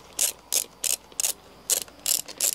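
A ratchet clicks in quick regular bursts, about seven short crisp strokes up close, while screws are backed out during installation of a Husqvarna 701 rally kit.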